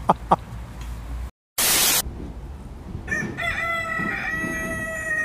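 A rooster crows in a long harmonic call that rises and holds, fairly close, after a few clicks and a brief burst of hiss, with faint background noise throughout.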